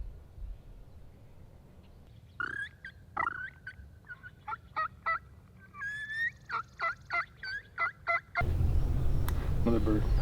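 Several bursts of wild turkey gobbling outdoors in Oregon, loud and rapid, repeating in quick rattling runs with short pauses between, followed by a wash of broadband noise.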